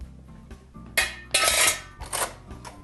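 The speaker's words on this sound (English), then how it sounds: "Let's get a good tasting fork." Metal cutlery clinks and rattles as a tasting fork is picked up. A few close, bright jangles come in quick bursts over a quiet kitchen background.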